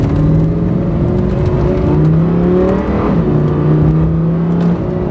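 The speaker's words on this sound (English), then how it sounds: "So we already know about the epic sound of this V10." A Lamborghini Huracan Performante's V10 engine revs up loud and close through several rising gear pulls, a continuous strong mechanical roar with brief dips between shifts.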